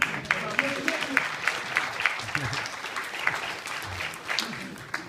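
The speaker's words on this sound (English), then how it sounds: "by a round of applause, am I hitting" Audience applause at a fraternity achievement week program, moderate and steady clapping from a crowd in a hall, with some overlapping voices and cheers mixed in across the clip.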